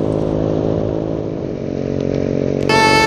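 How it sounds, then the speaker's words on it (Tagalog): A mini motorcycle engine runs at a steady, buzzy idle close by, and a brief sharp rise in pitch and loudness comes near the end. "Mga kosa, ayan ang gamit kong motor."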